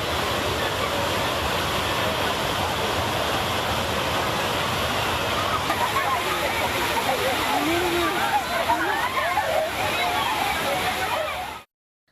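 Water pours down the Kavi waterfall near Kodaikanal, where tourists bathe: a loud, continuous roaring rush with steady splashing, up close and unbroken until it cuts off abruptly at the end.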